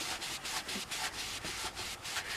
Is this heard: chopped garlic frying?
no